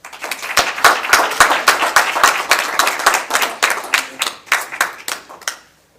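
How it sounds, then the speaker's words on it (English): A small room at a borough council meeting breaks into a round of applause, loud close hand claps from a modest group, individual smacks clearly audible, tapering off and stopping just before the end. "So give it a round of applause"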